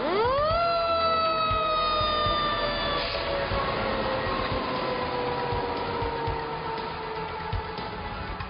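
A fire engine siren from a volunteer company responding to a night call wails loudly and steadily, its rising tone holding high, while a deep engine rumble runs underneath.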